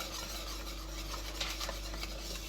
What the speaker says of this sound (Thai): ค่อย ๆ ผสมให้เข้ากัน